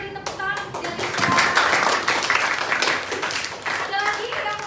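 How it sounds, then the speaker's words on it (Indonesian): A classroom of children claps for a student, a steady burst of hand claps up close with kids' voices chattering over it. "Kita beri tepuk tangan untuk Delicia."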